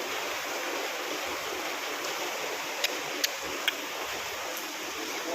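Flood water flowing around a house, a steady broad rushing and churning wash like a wave pool, continuous and close, with a few faint sharp clicks near the middle.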